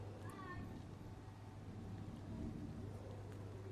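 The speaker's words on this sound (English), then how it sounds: "I hope you could hear the thunder here." Distant thunder rolls as a low, steady rumble through a garden during rain at dawn, with rainfall hissing continuously over it and no talking.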